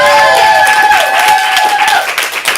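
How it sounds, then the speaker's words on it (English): Audience applause at a student stand-up comedy showcase, a dense wash of clapping with sustained whoops or whistles riding on top, loud and steady across the room before thinning toward the end. "Give them a big round of applause"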